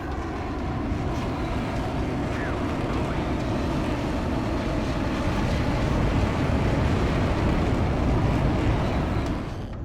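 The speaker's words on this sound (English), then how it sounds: "and we are ready for takeoff." Mirage 2000C fighter jet in the DCS World flight game spooling up for takeoff, a steady loud broadband jet roar with heavy low rumble that builds slightly over the span, with no talk.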